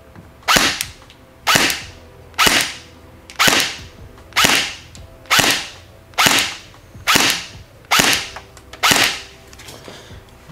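A VFC Avalon airsoft rifle fires 0.20 g BBs through a chronograph, ten sharp, evenly spaced shots about a second apart, loud and close with no talking.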